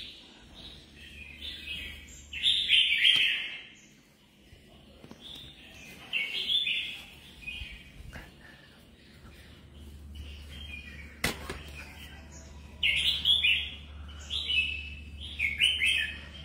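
Caged songbirds, a whole rack of them, give short bright bursts of chirps and twitters at intervals, moderately near, over a steady low background hum.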